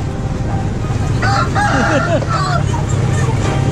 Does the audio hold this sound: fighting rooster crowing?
yes